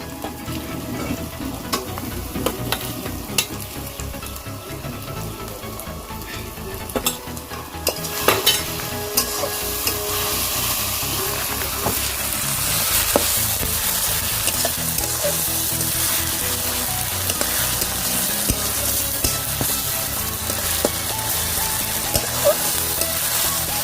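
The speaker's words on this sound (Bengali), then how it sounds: "পেঁয়াজটা ব্রাউন ব্রাউন করে ভাজা হয়ে গিয়েছে, এবারে আমি 2 চামচ মতো রসুন নিয়ে নেব।" Browned onions with garlic frying and being stirred in a pan for mutton curry, a steady close sizzle that grows louder partway through, with scraping stir strokes and no talking.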